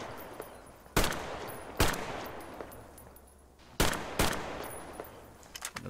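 Loud gunshots in the video game Metro Exodus, four sharp separate blasts each trailing into a long echoing decay, with no talking.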